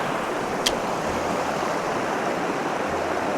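A waterfall at a river fishing spot roars steadily and loudly throughout, a dense unbroken rush of falling water with one brief click near the start.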